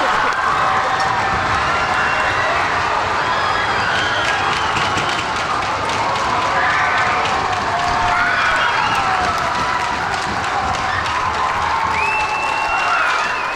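An ice hockey crowd at the Canal Cup game roars after an early goal. Sustained cheering and clapping fill the arena, with a voice heard over the din throughout.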